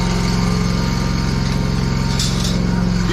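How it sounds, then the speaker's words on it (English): A Kawasaki engine on a lawn mower drones steadily and loudly close by, with a constant low throb that holds without a break. "I like them Kawasaki's. They good mowers."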